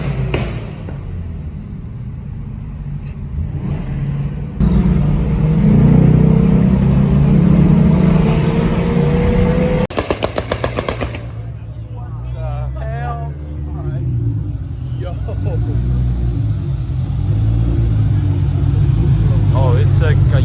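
A 2JZ-swapped Lamborghini Gallardo with no bumper rumbles at a street car cruise, its engine droning low and steady with a brief sharp burst midway, while people talk nearby over it.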